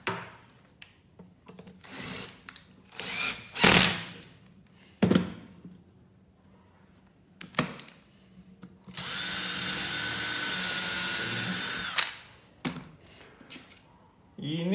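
A power drill bores a small hole for a screw, one steady loud whir lasting about three seconds, preceded by scattered knocks and handling sounds of wood.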